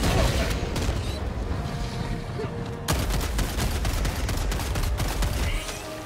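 A grenade blast in Helldivers 2 bursts out midway through dense, continuous gunfire and booming combat noise, loud and close, with the chaotic battle din carrying on steadily around it.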